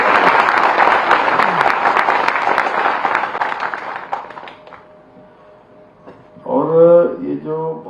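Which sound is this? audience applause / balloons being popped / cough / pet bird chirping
audience applause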